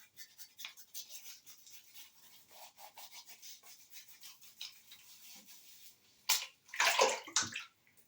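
Close, wet brushing and rubbing of shaving soap being worked into a lather for a disposable razor shave, a steady scratchy swishing that swells into louder, busier strokes near the end.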